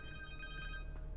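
An electronic telephone trills in Marvel's Spider-Man 2 with a bright, warbling tone, repeating steadily through a brief moment over a low background hum.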